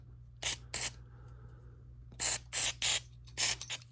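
Short aerosol bursts spray the decompression switch on a 1978 Honda Hobbit moped, two quick hisses followed after a pause by several more in a row, close and fairly quiet.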